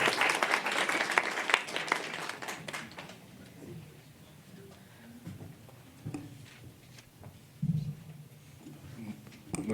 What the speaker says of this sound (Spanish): démosle un fuerte aplauso al doctor Erwin Chiquete